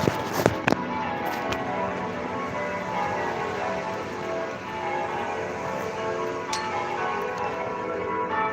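Church bells rung by bell ringers, heard outdoors as a dense continuous peal of overlapping tones, moderately distant and steady, with a few sharp clacks near the start.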